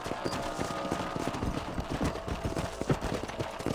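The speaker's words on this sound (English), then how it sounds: "cavalo correndo" Horse galloping in the Western video game Red Dead Redemption, steady clip-clop hoofbeats in a fast rhythm, close and moderately loud throughout.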